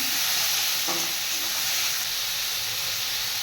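Chopped tomatoes land in hot oil with black cumin and dried chillies, producing a brief splash and stir followed by a continuous close sizzle and hiss that settles gradually, with no voices.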